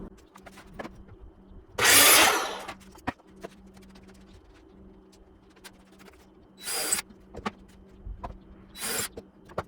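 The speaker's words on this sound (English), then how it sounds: "We're gonna drill a couple of holes" A power drill bores holes into a wooden craft-fair shelf in three bursts, a long loud whine at the start and two shorter ones later, with quiet handling clicks and a faint hum between.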